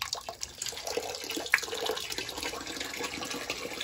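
Water draining from the return line of a steam boiler fitted with a McDonnell 67 low-water cutoff, a steady rushing flow that holds at an even level throughout with no talk over it.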